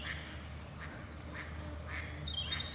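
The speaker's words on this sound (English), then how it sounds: "Bye, ducks." Ducks quack in the evening at a French chateau, several short raspy calls spaced across a few seconds, fairly faint and distant over a low background hum.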